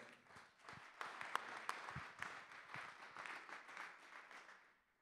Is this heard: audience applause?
yes